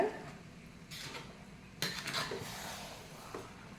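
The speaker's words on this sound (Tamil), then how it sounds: "நல்லா கிண்டி விட்டுட்டு சிம்மில் வச்சிடலாம்" Seeraga samba chicken biryani stirred in a metal pot, a few clinks and scrapes of a ladle against the rim, close, with quiet gaps between strokes.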